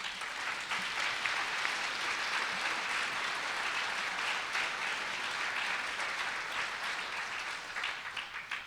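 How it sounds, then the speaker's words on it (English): Sustained applause with scattered cheers from a university audience at a State of the University address, steady and fairly distant, holding at an even level throughout before easing slightly at the end. "I thought the DRC staff would cheer for that"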